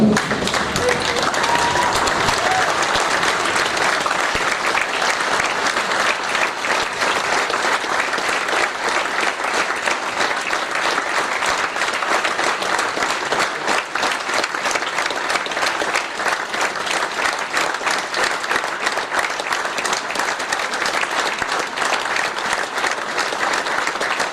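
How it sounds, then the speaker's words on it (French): A standing audience gives a minute-long tribute ovation in a conservatory hall, dense continuous clapping from a large crowd, loud and sustained, with faint voices mixed in. "Pendant 1 minute, tout le monde se met debout, on applaudit"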